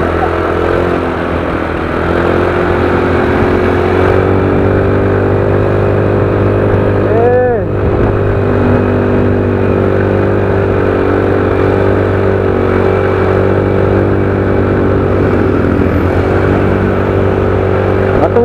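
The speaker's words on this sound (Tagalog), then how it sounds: "Matulin pala yung motor mo eh, pag walang kadena." A motorcycle with no chain is pushed up a rising road by another rider's foot while a motorcycle engine drones steadily and loudly throughout, with one brief dip in the middle.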